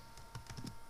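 A few quick keystrokes tap on a computer keyboard, faint and close in a quiet room.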